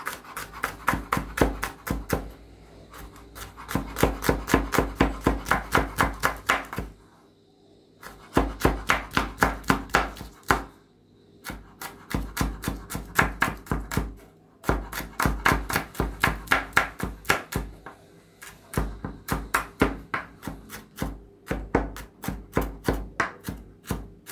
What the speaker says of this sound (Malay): Ciri hijau kita iris halus.